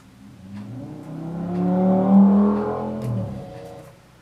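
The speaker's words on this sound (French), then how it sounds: "Excusez-moi si vous avez entendu la voiture qui vient de passer." A car passes along a busy main road outside a home, its engine and tyre noise swelling steadily to a peak around the middle and fading away again, with no talk over it.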